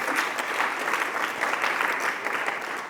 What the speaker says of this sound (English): let's give a round of applause for the 3rd prize